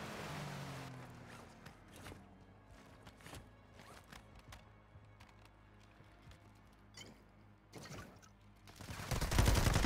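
Gunfire in Modern Warfare 2 / Warzone 2.0: scattered single shots and short bursts at a distance, some sharper and closer, against quiet ambience, then a loud rushing close-up blast at the end, with no talk.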